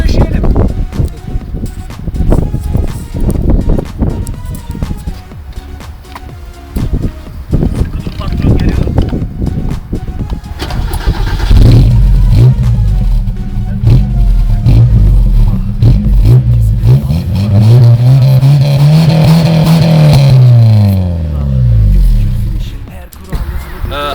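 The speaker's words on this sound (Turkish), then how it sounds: "Ve bir egzoz testi yapalım tabii ki." A Volkswagen Golf Mk II's loud exhaust rumbles and barks through sharp throttle blips, then rises into a sustained rev that climbs and falls, with voices talking early on.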